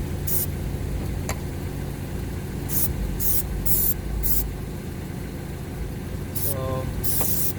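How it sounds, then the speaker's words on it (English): Plasti Dip aerosol sprayed onto a silver surface in short hissing bursts, several brief blasts with a longer one near the end, set against a steady low hum, with no talking. "I'm gonna spray a little bit on the silver one."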